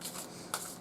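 A deck of tarot cards riffles through a shuffle, a soft papery flutter with one sharper snap of cards about halfway through, close and fairly quiet.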